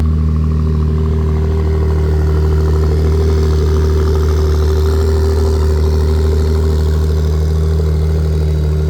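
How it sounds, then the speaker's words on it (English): A Ferrari 488 engine runs steadily at idle nearby, a loud continuous low hum with a faint mechanical clatter and no change in pitch. "Ooh, that thing sounds so good. A little Ferrari 488 right here."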